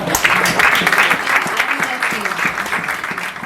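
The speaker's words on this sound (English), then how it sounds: "May we have a loud round of applause for her." A festival audience applauds a speaker at a writers' literature festival, loud dense clapping from a crowd that continues steadily throughout without talk.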